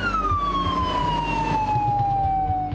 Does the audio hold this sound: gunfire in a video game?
no